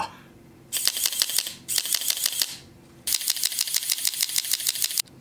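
A disassembled Canon DSLR's mirror and shutter driven by applied power, firing in rapid rattling bursts: three runs of fast repeated mechanical clicks separated by short pauses, close and crisp.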